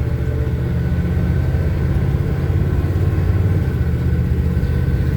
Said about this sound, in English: This old truck runs good.